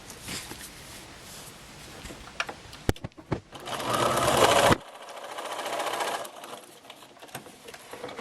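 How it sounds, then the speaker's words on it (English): Sewing machine stitching a seam through fabric, bursts of fast whirring needle chatter broken by short pauses and clicks, recorded up close. "I'm going to sew between A2 and A3 on that line."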